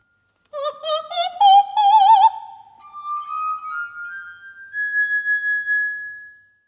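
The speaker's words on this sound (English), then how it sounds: "Donizetti used the eerie-sounding glass harmonica to heighten the Gothic atmosphere." A glass harmonica plays a slow, eerie phrase in a Donizetti opera. Its pure, sustained tones waver with vibrato and then glide upward into long, thin high notes that fade out. It sounds alone, with no voices.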